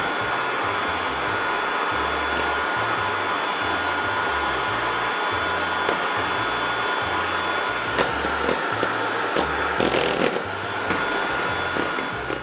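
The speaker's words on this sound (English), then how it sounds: "We're going to beat the egg whites until it gets soft peaked." An electric hand mixer whips egg whites for a durian Swiss roll cake, a steady close motor whir running continuously, with brief clatter near the end and no talking.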